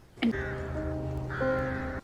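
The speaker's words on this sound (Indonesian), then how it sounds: "Lucas melihat segerombolan gagak terbang" Two drawn-out, harsh crow caws sound close and loud, each rising sharply and then holding a raspy tone, with a brief gap between them and no talking.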